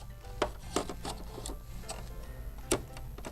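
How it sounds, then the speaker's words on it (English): An embroidery machine stitches background quilting on a felt luggage tag in a hoop, giving a steady mechanical hum with regular soft ticking needle strokes and a few sharper clicks. "It's going to stitch the background quilting first."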